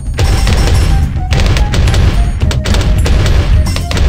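Cluster bombs fire in the video game Bloons Tower Defense Battles, a loud, dense barrage of overlapping explosive pops and booms that rattle on continuously with brief dips.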